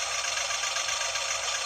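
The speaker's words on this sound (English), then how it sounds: "there's our idling sound" A licensed Suzuki Jimny 1/16 scale RC model plays an electronic engine-idle sound effect, a steady buzzy hum with faint rapid knocking, close and unbroken.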